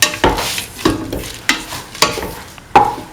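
A spoon stirs lentil stew mixed with salt in a pan, making five or six sharp scraping clatters at a steady pace over a faint sizzle, close and loud, with no talking.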